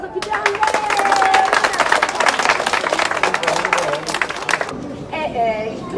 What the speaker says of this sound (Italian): Dove un applauso più grande!